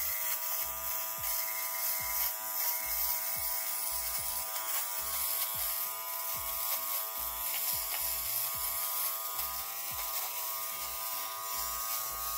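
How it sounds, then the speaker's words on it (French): A small electric fabric shaver with a lint-collecting receptacle buzzes steadily close up as it moves in small circles over winter clothing to remove pills, its motor pitch wavering rhythmically throughout. "il y a le petit rasoir ici, il y a le petit réceptacle qui va venir récupérer les bouts de matière qu'il va raser"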